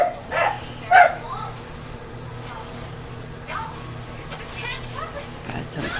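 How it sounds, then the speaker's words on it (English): Dogs bark outside, a couple of sharp yips near the start followed by fainter, more distant barking, with an indoor room tone underneath. "What dog's barking at? Going crazy out there."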